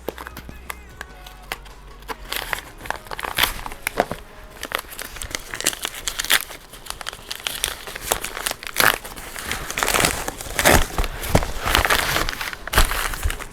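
Newegg shipping packages being torn open, with continuous close, loud crinkling and ripping of plastic and paper packaging that builds through the clip, no talking over it.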